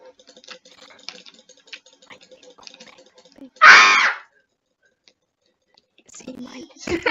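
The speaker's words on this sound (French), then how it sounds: "C'était quoi ces cris?" A single loud, shrill scream bursts out for under a second, cutting through quiet keyboard clatter and low chatter, then the room falls nearly silent before voices return.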